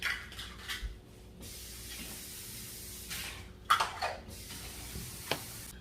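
Rice being rinsed under running water in a home kitchen, a close, uneven spray of water broken by a few clinks against the pot, with no talking.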